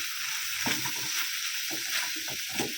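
Spices and poppy seeds frying in a pan with garlic, onion, tomato, green chilli, mustard, turmeric and cumin powder, giving a steady broadband sizzle with intermittent scraping stirs throughout.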